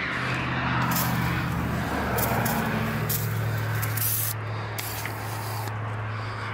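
Water sprayed steadily over a frozen 1975 Chevy K10 4x4 in Montana, a continuous loud hiss with a rough rushing texture and a low engine-like hum beneath, shifting slightly in tone partway through.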